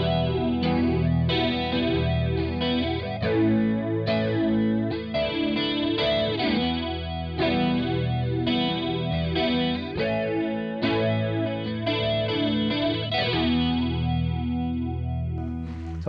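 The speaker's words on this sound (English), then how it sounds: "So here's the flanger in its default settings." Electric guitar played through a TC Electronic Plethora X5 Vortex flanger at its default settings. Strummed chords ring with a sweeping, metallic whoosh that rises and falls continuously, loud and close with no talking.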